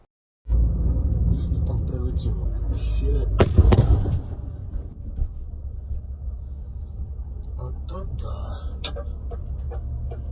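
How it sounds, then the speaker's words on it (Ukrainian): Explosions near Zhytomyr, Ukraine, on an evening set off a sudden loud rumble that peaks in a sharp blast, then leave a lingering low roar while people talk nearby. "Відео з вибухами та його наслідками публікують в соцмережах."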